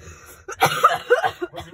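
A single harsh cough bursts out close to the microphone, followed by a rough throat-clearing rasp, with short breathy gaps between the sounds.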